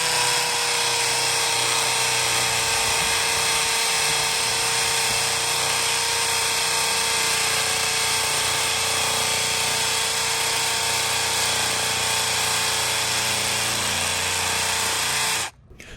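A Ryobi 18V ONE+ brushless 1/2-inch hammer drill bores into hard rock with a loud, steady high-pitched whine and grinding rattle that runs continuously for about fifteen seconds before cutting off abruptly.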